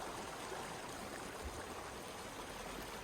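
Water flows steadily in a stream with overhanging banks, a continuous soft rushing and bubbling hiss at an even level throughout, with no voices.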